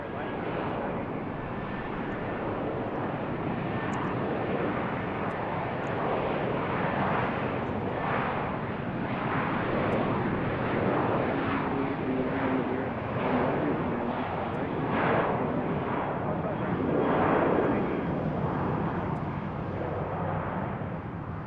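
A Southwest Airlines airliner departs runway 15 right at Baltimore BWI airport, its steady jet engine roar loud and continuous throughout, with faint radio chatter under it.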